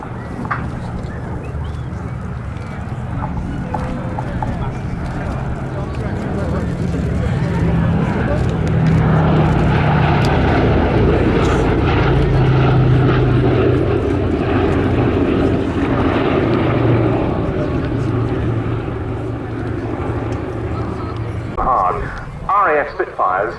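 Boeing B-17G Flying Fortress "Sally B", a four-engine piston bomber, droning overhead at the Cosford Airshow; a steady propeller roar swells loud and broad through the middle, then fades near the end with a few brief sounds over it.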